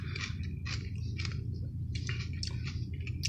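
Someone crunches and chews raw apple and cucumber up close, with several distinct wet bites and chews in an uneven rhythm and no talk.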